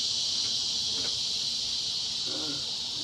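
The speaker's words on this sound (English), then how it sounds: "The cicadas are singing away today." Cicadas sing in West Texas in a steady, high insect drone that holds unbroken from start to finish, with faint low rustles and brief soft sounds beneath it.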